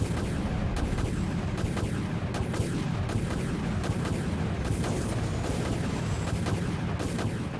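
Weapons fire in the naval combat video game Dread Hunger, a dense, continuous barrage of booming blasts and rumbling gunfire at constant high loudness, with no speech over it.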